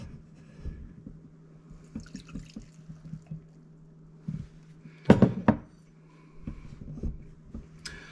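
Sun Ranch vodka, about a cup of it, goes into a clean jar of purple dead nettle for a tincture: intermittent splashing and dripping against a low hum, with one sharp glassy clatter midway.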